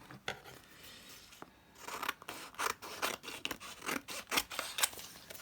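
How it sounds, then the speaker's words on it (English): Scissors snip paper for a collage in quick, uneven bursts of crisp cuts, close and moderately quiet, with no talk. "just going to cut this one out roughly because it's going to be the backing for this"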